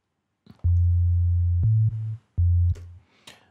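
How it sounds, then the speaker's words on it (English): A sub bass synth built from a plain sine wave plays short held notes, deep and smooth, in a stop-start rhythm of two pitches with brief gaps between, loud and alone in a house music production. "so that was just a sine wave"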